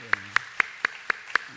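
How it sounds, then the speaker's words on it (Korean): Six sharp, evenly spaced claps ring out close and loud over a low hum at a church gathering, where a missionary's wife is being welcomed. "우리 박수로 한번 환영하겠습니다"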